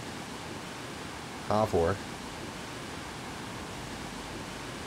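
A waterfall in the LEGO The Lord of the Rings video game gives a constant, even rushing hiss throughout, with a short spoken phrase briefly over it.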